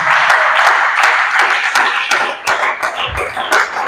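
A church congregation breaks into applause, a dense, loud wash of many hands clapping together with steady energy throughout.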